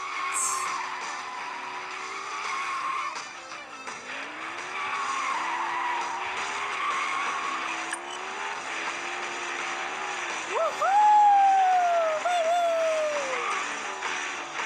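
Tires screech as a game car drifts, a sustained skidding squeal rising and bending in pitch over a steady engine drone, loudest near the end, with no voices over it.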